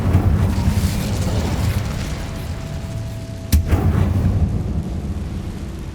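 An Incendio fire spell bursts in the Hogwarts Legacy video game: a sharp single crack and whoosh of flame midway through a loud, rumbling, roaring background.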